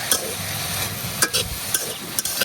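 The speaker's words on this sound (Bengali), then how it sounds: "এখন শাকটা বাগার দিলাম তো দিয়ে দিতেছি তেল" Boiled jute leaves are tempered in hot oil with fried onion and garlic, giving a close sizzle broken by a few stirring scrapes and clinks in a village kitchen.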